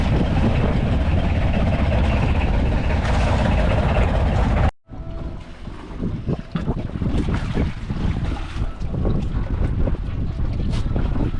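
A motorized boat rumbles over choppy ocean waves with heavy wind buffeting the microphone, broken by a brief cut before the churning continues.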